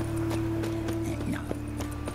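Horse hooves clip-clop at a steady gait in The Witcher 3, moderately close over a continuous game ambience hum, with no voices.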